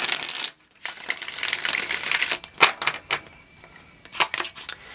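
A deck of tarot cards is shuffled by hand, bursts of crisp riffling and flicking cards with short pauses between, close and fairly quiet.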